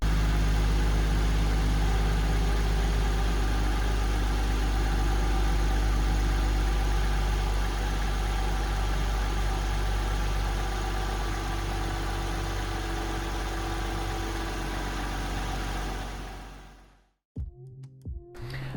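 A 1991 Toyota Soarer 2.5GT Turbo JZZ30 with an automatic gearbox idles steadily, a smooth, even engine hum that runs without a break. It cuts off near the end, followed by a few faint clicks and knocks.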